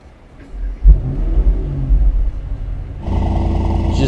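A 2022 Mercedes SL 63 AMG V8 cranks and fires with a loud low rumble, then settles into a flutter for a couple of seconds before stepping up to a louder, steady deep idle, recorded close and with no talking.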